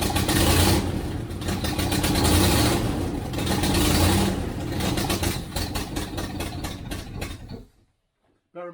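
A cold 1973 Range Rover engine idles inside a workshop, a steady loud rumble with uneven pulsing that runs for about eight seconds before cutting out abruptly.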